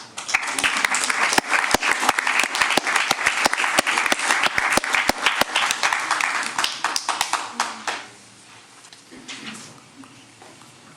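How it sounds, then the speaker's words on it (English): Audience at a school district board meeting giving a loud burst of sustained applause with dense hand claps that thins out and stops after about eight seconds, leaving quiet room tone. "So let's please give them a round of applause again."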